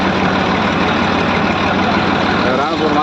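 A tractor loaded with cotton idling at the Ranpur marketing yard, a steady low rumbling engine note held throughout, close and loud, with voices talking over it.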